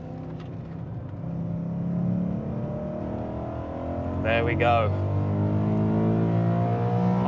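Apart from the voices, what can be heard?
BMW E92 M3 engine revving at the Nürburgring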